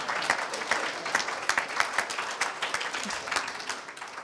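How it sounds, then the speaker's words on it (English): An audience at the Liberal Judaism Biennial 2023 gives a sustained round of applause, with a dense, even patter of many hands filling the hall throughout. "So give yourself a round of applause"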